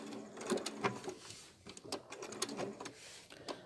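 A sewing machine stitches machine appliqué in quick bursts of rapid clattering, stopping briefly and then picking up speed in a longer run, heard close with no talking.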